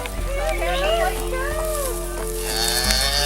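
A rescued cow that had lived in confinement moos and bellows excitedly among other farm animals, drawn-out calls close by over a steady, noisy outdoor background.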